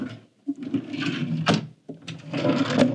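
Hotel room drawers in a historic Melbourne InterContinental suite slide and knock shut in several sharp bumps and scrapes, with quiet rustling between them.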